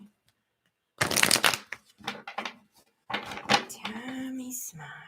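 Tarot cards are shuffled in two quick riffling bursts, close and crisp, separated by a short pause, with faint taps and rustles between.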